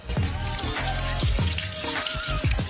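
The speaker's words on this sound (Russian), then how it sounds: "Теперь смываем это все водой." Running tap water splashes as hands rinse off soap, close and steady with uneven spattering bursts.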